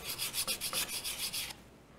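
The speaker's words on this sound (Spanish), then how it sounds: "Y tiene una gran ventaja, que el lijado es sumamente suave" Rhythmic back-and-forth sanding strokes on hardened paint filler, about nine quick passes, close and fairly loud, then the rasping abruptly stops.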